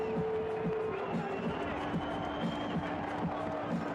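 A boxing crowd at a heavyweight title fight in Atlantic City cheers for Brooklyn's Shannon Briggs, a steady, dense roar of many voices with rhythmic chanting pulses, continuous and fairly loud for the whole stretch.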